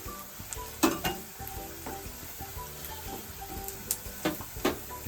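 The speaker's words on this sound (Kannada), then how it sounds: "ಕರಿಬೇವು, ಒಣಮೆಣಸಿನಕಾಯಿ ಹಾಕ್ತಾಯಿದ್ದೀನಿ." Curry leaves and dried red chillies hit hot oil with onions and turmeric in a pan, making a soft, steady sizzle with occasional sharp crackles and stirring scrapes, fairly faint and close, with no voices.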